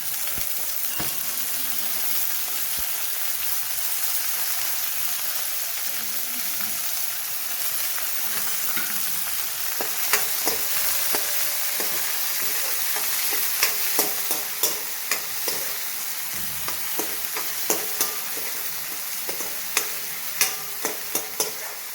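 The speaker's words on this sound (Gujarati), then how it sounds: "ધીમા તાપે ડુંગળીને ચડવા દઈશું" Green onions frying slowly over low heat for an eggplant oḷo dish, a steady soft sizzle and hiss with occasional scraping stirs and sharp clicks of a utensil against the pan growing more frequent toward the end.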